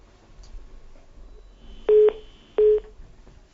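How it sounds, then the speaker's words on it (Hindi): Two short electronic telephone tones during a live broadcast after a caller's phone line dropped, each a steady beep of about a fifth of a second, close together and loud against faint background hiss. "फोन लाइन डिस्कनेक्ट हो गई है"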